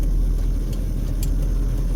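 Road traffic passes on Twain Avenue in Las Vegas, a steady low rumble of car engines and tire noise close by, continuous with faint higher hiss.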